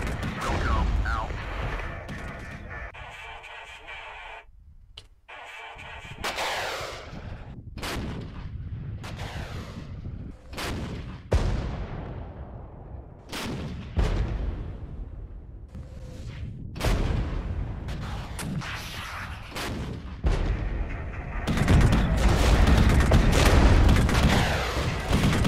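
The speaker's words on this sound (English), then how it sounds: "They're well entrenched, but we're hitting them with a lot of firepower." Battlefield gunfire and artillery in the Regiments war game, with sharp rifle cracks and heavy booming shells firing repeatedly at varied distances, building to dense sustained fire near the end, with speech at times.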